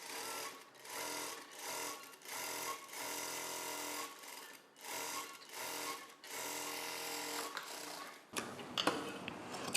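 A sewing machine stitches a belt onto a blouse piece in repeated close bursts of rapid mechanical whirring, with short pauses between runs and a brief handling rustle at the end.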